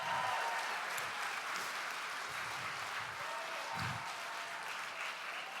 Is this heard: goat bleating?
no